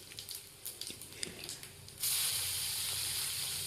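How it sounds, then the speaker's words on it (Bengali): Dried chilies and panch phoron spices frying in hot oil for a soybean curry, starting as a quieter sputter, then a loud, steady sizzle bursting up partway through and holding close to the end. "লঙ্কাগুলো ভাজা ভাজা হয়ে গেলে 5 ফোড়নের ফোড়ন দিয়ে দিলাম"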